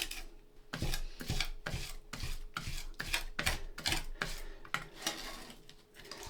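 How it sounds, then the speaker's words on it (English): A knife blade scrapes and mashes salted garlic into a paste on a cutting board, a quick series of rough rasping strokes repeating in a steady rhythm, close and fairly quiet with no talking. "we can very quickly turn our garlic into a puree"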